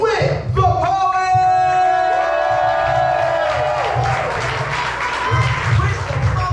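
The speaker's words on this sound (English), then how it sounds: "Please clap it up for WHIT," Audience at a poetry slam cheering and applauding for a poet, a dense loud crowd roar with whoops and shouts, a held tone ringing over it early on.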